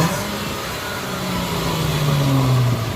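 A 2018 Dodge Charger V6 engine with the muffler removed drones loud and raw, then its pitch climbs as it revs up toward the end, harsh and unmuffled, with no one speaking.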